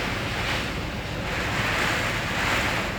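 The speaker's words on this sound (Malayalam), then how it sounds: "അതിശക്തമായ മഴയാണ്, കാറ്റും മഴയുണ്ട്." Heavy rain driven by strong wind at Arafa, a dense, loud and unbroken roar with gusting wind buffeting the microphone throughout.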